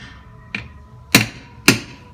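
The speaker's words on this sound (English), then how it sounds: "you can go ahead and take your hammer" Three sharp metal taps of a hammer on a center punch, marking a Jeep JK Brawler rocker for installation; a light tap first, then two harder, ringing strikes about half a second apart, close and clear.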